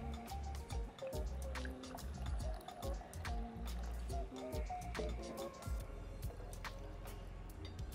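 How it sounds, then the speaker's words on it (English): Cold brew coffee concentrate poured into a glass, a soft close trickle and splash with faint drips, quiet and continuous over several seconds. "Pour it in your glass."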